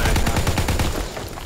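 Automatic gunfire in Call of Duty WWII, a quick run of loud, evenly spaced shots that trails off into fainter noise toward the end.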